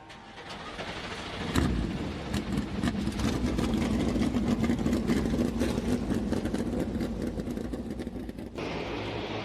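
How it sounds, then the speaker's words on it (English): NASCAR Cup Series race car engines fire up at Miami, a sudden roar swelling into a sustained rumble of many engines idling and revving, heard from the track. "Drivers, start your engines."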